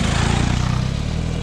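A motorcycle out on a road trip, its engine running with a loud, steady, throbbing mid-range drone and rhythmic pulsing close by, unbroken for the whole moment and without speech.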